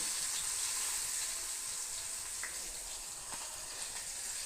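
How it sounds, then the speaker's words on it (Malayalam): Small shallots frying in hot oil for an Onam sadya dish, a soft, even crackling sizzle with faint popping spatters throughout, no voices. "ഇതിലേക്ക് ചെറിയ ഉള്ളിയാണ് ഇടാൻ പോകുന്നത്. കുറച്ച് മതി, ചെറിയ ഉള്ളി ഇട്ടിട്ടുണ്ട്"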